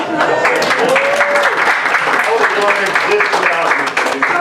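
Loud, dense applause fills the room continuously at a Queens Borough Board meeting, with a voice calling out over the clapping.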